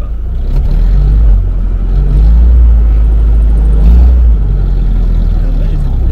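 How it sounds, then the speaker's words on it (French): A Willys MB Jeep engine rumbles loudly and revs as it pulls away, a close low-pitched drone with a few surges of acceleration. "si je lâche l'engrenage et que j'accélère un peu, elle part."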